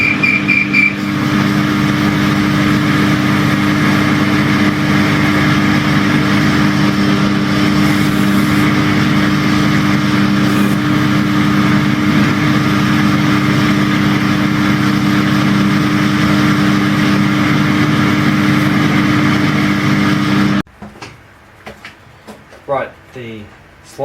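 A 2mm cutting blade machines a slot into a custom BMX-style hub with a constant, loud, humming machine drone that holds steady for about twenty seconds. It then cuts off abruptly, leaving only quieter scattered handling noises.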